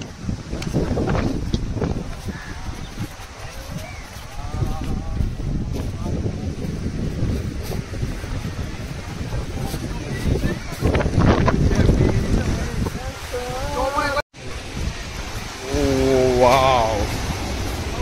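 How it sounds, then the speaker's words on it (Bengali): Cold wind sweeps the seashore at Digha, buffeting the microphone in gusts while people talk over it and surf rumbles beneath. "আমরা সমুদ্র পাড়ে চলে এসেছি, এখন ঠান্ডা ঠান্ডা হাওয়া লাগছে।"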